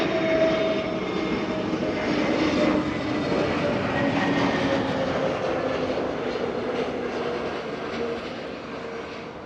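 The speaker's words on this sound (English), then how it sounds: "we have an A321neo up next for arrival." An Airbus A321neo on arrival, its jet engines producing a sustained roar with a faint whine that swells early and slowly fades as it moves past.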